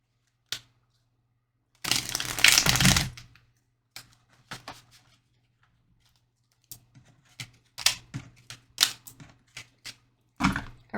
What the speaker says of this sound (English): we're now going to shuffle some tarot.